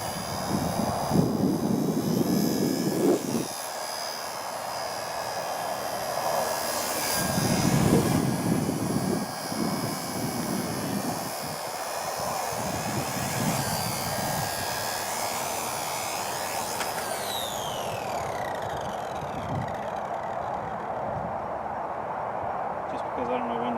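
An XK K123 AS350 Écureuil scale aerobatic RC helicopter flying outdoors in wind, a steady high-pitched motor and rotor whine that shifts as it maneuvers, with wind buffeting and loud swells near the start.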